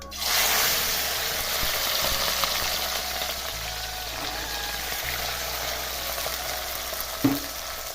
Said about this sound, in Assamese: মাছ ভাজি আছে এয়া ফ্ৰাই কৰি আছে মাছ